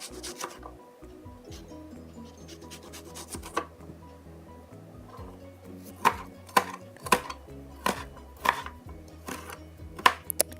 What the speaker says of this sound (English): Now we're cutting the onions.